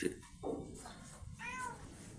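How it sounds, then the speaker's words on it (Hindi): A mother cat that has just come back from nursing her kittens gives faint, soft meows indoors near a door, a couple of thin calls over quiet room noise. "ये गाइस म्याऊं म्याऊं करती है"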